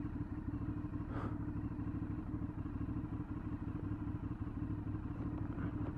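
An Aprilia Shiver 750 V-twin motorcycle making a slow manoeuvre, its engine a steady low idling rumble with a brief clatter early on, close and even throughout.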